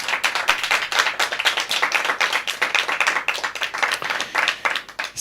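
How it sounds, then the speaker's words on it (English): Audience applause for Magda at a public health science competition for young researchers, steady dense clapping from a room full of hands lasting several seconds, with no voices over it. "a big thank you and an applause to Magda"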